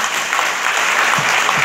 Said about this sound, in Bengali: এই ব্যতিক্রমী মানুষটির জন্য একবার সমবেত করতালি হোক।